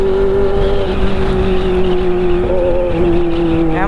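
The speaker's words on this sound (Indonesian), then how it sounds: "Emang kalau motor gini buat speeding ya enak men." Big motorcycles such as a Kawasaki Z800, Yamaha R6 and Kawasaki Z900 speeding on the road, a loud, steady engine drone with a sustained tone that dips slightly as one passes near, with no talking.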